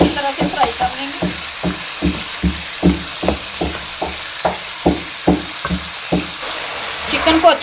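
Chicken frying in ghee while a utensil stirs it, a steady sizzle under regular scraping knocks against the pan, close and moderately loud.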